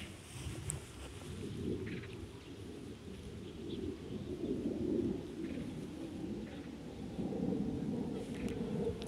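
A low, steady rumble of an airplane passing overhead at a distance, with scattered bird calls over the outdoor background.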